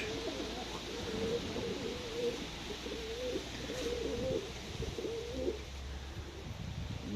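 Pigeons cooing in a cellar loft, repeated low rolling coos from several birds close by over a steady roomy background hum, with occasional faint chirps.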